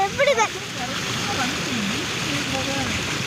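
Floodwater from heavy rain flowing over a road, a steady broadband rush and splash of running water that continues throughout, with someone talking over it.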